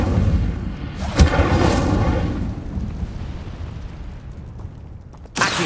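Incendio fire spell cast in Hogwarts Legacy on PS5, a sudden bright whoosh-burst early on that fades into a roaring tail, with another blast near the end over continuous game background.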